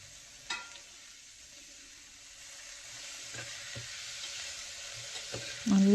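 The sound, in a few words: sliced onions with salt sautéed on high flame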